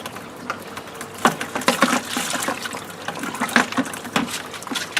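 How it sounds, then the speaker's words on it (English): Water runs from a tap into a container while nutrients are stirred in for Dutch bucket tomatoes, giving a steady splashing trickle with uneven sloshing surges, close and moderately loud. "I'll just turn the tap on and stir it in."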